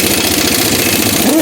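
A pneumatic impact gun fitted with a 1 5/16 socket hammers loose the heavy wheel nuts on a 2020 Thor vehicle, a loud, close, continuous rattling buzz filling the brief moment.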